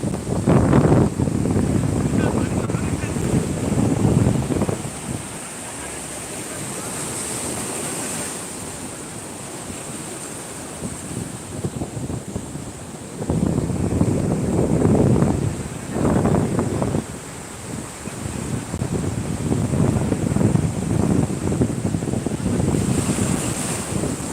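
Sea waves rolling in with the incoming tide at Shankarpur sea beach, a steady roar of surf that swells and recedes in repeated surges, with heavy wind buffeting the microphone throughout.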